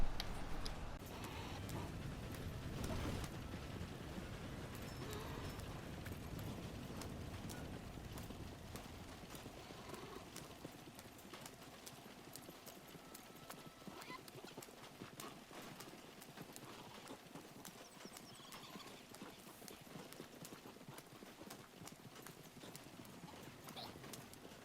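Steady clip-clop of a horse's hooves galloping in a bounty hunter video game, a continuous fast rhythm with an occasional neigh, moderately loud and without talk.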